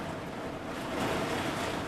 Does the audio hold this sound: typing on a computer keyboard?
no